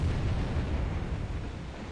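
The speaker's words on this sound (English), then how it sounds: "Wow, doing some damage with our 20mm gun." Rapid, continuous gunfire from a 20mm naval gun in the War in the Pacific video game, a steady dense rumble of low booming shots with no pauses.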